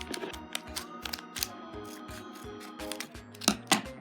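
Plastic toy packaging from a Rainbocorns Wild Heart Surprise egg being cut open, likely with scissors: a string of sharp, close snips and crinkles in irregular bursts, louder clicks near the end, with no talking.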